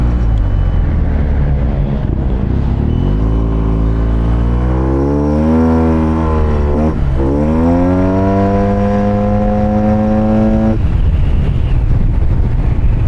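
Yamaha TMAX scooter accelerating hard, its engine note climbing steadily in pitch for several seconds, easing briefly, then surging again before cutting off; loud and close throughout with no talk.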